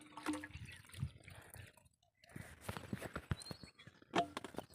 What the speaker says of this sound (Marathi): वर वरून आलेली पाईपलाईन आणि तिच्यातलं पाणी